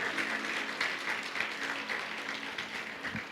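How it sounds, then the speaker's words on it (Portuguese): Church congregation applauding during a sermon, a steady wash of clapping from many hands that fills the room throughout, moderately loud with no clear pauses. "Se eu fosse você, eu dava um aplauso a Ele"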